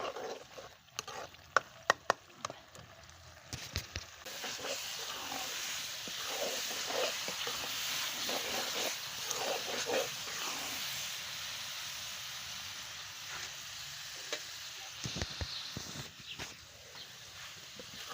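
Carrot and strawberry halwa roasting in ghee, a soft, continuous hissing sizzle with scattered clicks and scrapes of stirring, moderately quiet and with no talking.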